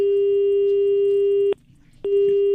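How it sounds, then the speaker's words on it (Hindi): A steady electronic telephone tone sounds loudly, breaks off for half a second, then resumes, like a busy signal after a call ends. "क्या संदीप भाई फोन काट दिए?"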